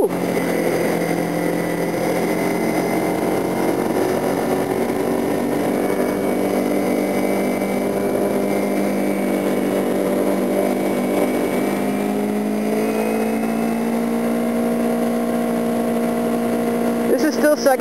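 A motorcycle engine in second gear holds around 6,500 RPM as it runs downhill, giving a loud, steady, high-pitched drone that rises only slightly over many seconds.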